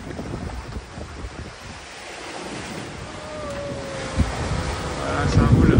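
Rough Atlantic sea and gusting wind around a sailboat on a crossing from Cape Verde to Barbados, a steady roar of surf and wind buffeting the microphone, swelling toward the end with a faint tonal whine.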